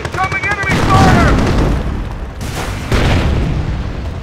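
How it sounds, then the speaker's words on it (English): Incoming enemy fire in the WWII strategy game Company of Heroes during the Normandy invasion, loud booms and rolling gunfire under a shouted voice with radio-like chatter, then a heavy blast thumps twice. "Incoming enemy fire!"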